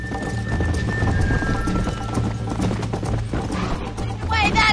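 A horse gallops in Red Dead Redemption, with loud rapid hoofbeats in a steady driving rhythm, a brief whinny near the end, and a voice shouting encouragement over it.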